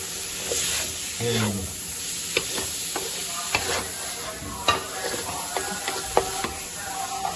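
Vegetables stir-frying in a pan over a high flame for a vegetable spaghetti dish, with a steady close sizzle broken by repeated scraping stirs and brief clicks of the utensil against the pan.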